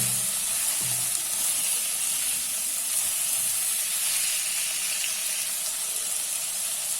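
Kashmiri red chillies and a pinch of cumin sizzle in hot oil for an eggplant curry made without coconut, a steady close hiss of frying that holds without pause and with no talk.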